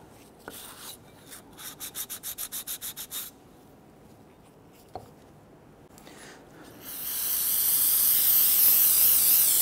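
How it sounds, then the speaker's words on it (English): Old gasket material gets rubbed and scraped off an aluminum surface, giving a run of quick rhythmic scrubbing strokes close by, then scattered scrapes, before a loud steady spray hiss takes over at the end. "We just want to clean off any of the old gasket that might be there causing a possible sealing problem down the road."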